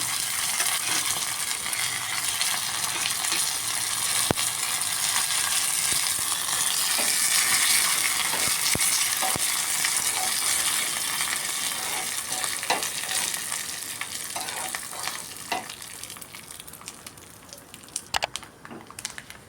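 Curry leaves and tempering spices crackle and sizzle loudly in hot oil, a dense continuous fry that slowly eases toward the end, broken by light stirring scrapes and clicks of a spoon against the pan, with no voices.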